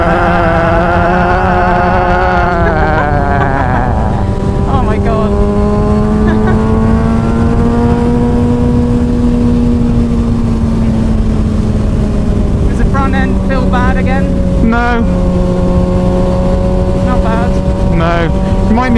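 A motorcycle engine revs up loudly while overtaking, its pitch rising and holding in a sustained drone, heard close under strong wind noise with people talking over it.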